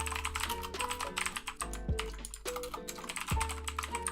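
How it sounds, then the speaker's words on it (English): Someone types rapidly on a computer keyboard, producing dense, continuous clicking with occasional heavier keystrokes, close and alone without talking, while background music plays underneath. "just enjoy me mindlessly smashing away at my keyboard"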